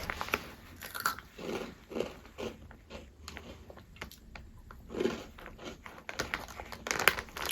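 Crisp bites and crunching of an Egyptian cheese-flavored snack, repeated bites and chewing close to the mic over several seconds, with light crinkling in between and no speech.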